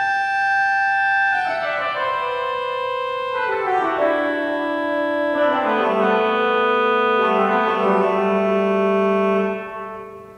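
Pipe organ sounds two canon voices of Bach's Goldberg Variation 6 played together without displacement, parallel sustained lines descending step by step, clear and fairly loud, ending with a fade.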